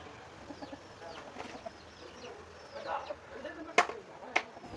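A black hen clucks in short, scattered calls while a boy tries to catch her, with a couple of sharp, louder squawks near the end over faint background sounds.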